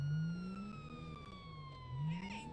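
In the video game GTA 5, a police car siren wails in a continuous rising and falling tone with a steady engine drone underneath, loud and close throughout.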